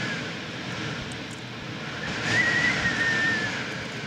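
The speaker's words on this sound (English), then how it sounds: "The jet there coming along there." A jet aircraft passes high overhead on a windy summer day in Limerick city, its faint distant roar swelling gently midway through under steady broadband wind noise, with a thin whistling tone.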